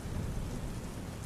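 Heavy rain pours in a dense, steady wash, with low rolling thunder rumbling underneath throughout, no voices present.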